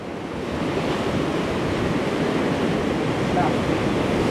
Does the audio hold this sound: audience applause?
no